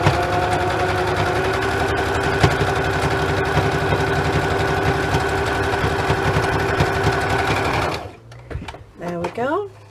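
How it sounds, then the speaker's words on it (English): A sewing machine stitching a junk journal cover runs in a steady, continuous mechanical whir for about eight seconds, then stops, leaving a few quieter handling sounds and brief voice. "we can probably just sew around the rest"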